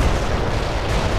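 Mortar fire in the video game World in Conflict, a loud, dense, rumbling barrage of booming detonations filling the whole short moment with no clear gaps.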